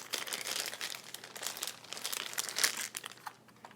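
Plastic wrap crinkles close up on a teal Game Boy Color box, a continuous rustling and crackling that rises and falls in small bursts.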